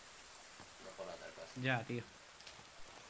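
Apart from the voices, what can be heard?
rain falling in the video game The Forest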